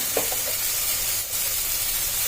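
Grated carrot and beetroot sauté in a pan for halwa, giving a steady soft sizzle with a few faint stirring scrapes.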